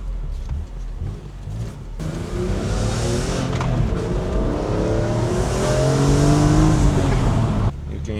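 A BMW M3 E46 engine revs high from inside the car, a loud, rising mechanical howl climbing steadily in pitch before cutting off abruptly.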